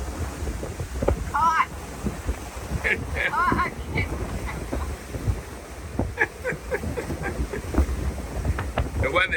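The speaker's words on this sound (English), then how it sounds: "The weather is really sloppy, huh? The waves are really big." Strong wind and big ocean waves in rough, sloppy weather aboard a sailboat, making a continuous loud roar of gusts buffeting the microphone, with a few faint voice-like sounds in between.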